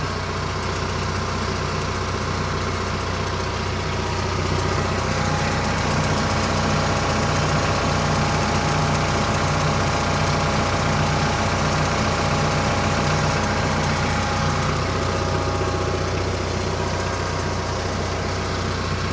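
A TYM T474 HST tractor engine idles steadily nearby, a loud, constant low rumble with a faint rhythmic knock running throughout, no voices.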